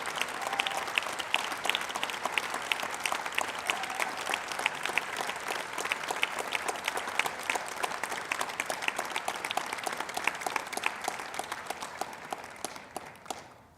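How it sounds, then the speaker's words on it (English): A large audience at a university degree ceremony in Brighton applauds in a sustained, dense roll of clapping that holds steady for about fourteen seconds before tapering off, heard from some distance in a big hall. "So please, let's give them a huge round of applause."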